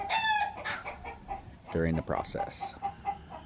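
Chickens in a backyard chicken pen cluck and squawk close by in short bursts, with one louder drawn-out call near the middle, while a person talks briefly over them.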